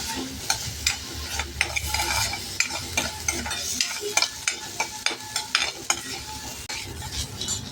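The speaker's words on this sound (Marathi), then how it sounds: "आणि ती भगर तुपात छान परतून घेऊ" Barnyard millet (bhagar) being stirred and roasted in ghee with chillies, giving a steady close sizzle broken by repeated scraping strokes of a spoon against the pan, with no voices.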